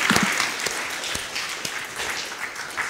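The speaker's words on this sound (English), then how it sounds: "Let's give Bobby and Betty a big round of applause" A church congregation at an all-age worship service applauds after a puppet show, a steady patter of many hands clapping at moderate volume that tapers slightly over a few seconds.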